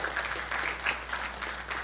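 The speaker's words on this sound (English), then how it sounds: "give the panelists all a round of applause" An audience at an energy sector conference session applauds the panelists, a steady patter of clapping from a moderate-sized crowd in a hall, continuous and fairly soft.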